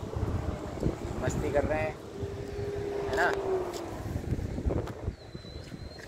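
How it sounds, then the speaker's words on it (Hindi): Strong wind blows outdoors in a village during unseasonal rain, roaring and buffeting across the microphone throughout while adults and children talk over it. "आज बहुत हवा चल रही"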